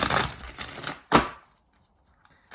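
Tarot cards are shuffled by hand in a few quick riffling bursts, close and crisp, ending in a sharp snap followed by near silence.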